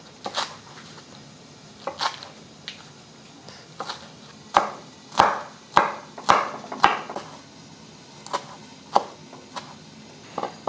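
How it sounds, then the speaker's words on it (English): Knife julienning two green onions on a cutting board, a series of crisp, sharp chops in uneven bursts, some louder and close, others lighter, with no talking. "I'm going to slice up my green onions"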